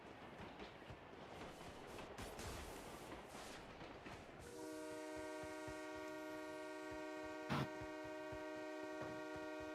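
A train arriving in PUBG Mobile: a rushing rumble gives way midway to a loud, steady horn-like hum with a brief sharp peak, heard without talk.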